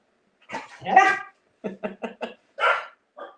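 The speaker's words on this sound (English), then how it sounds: "Okay, we're all barking now" A husky-mix dog barks and howls close by, starting with a drawn-out vocal yowl, then a quick run of four sharp barks and two more yips.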